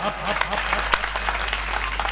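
Audience applause at a poetry festival in India, a dense continuous patter of clapping from a crowd lasting about two seconds with no voice on top.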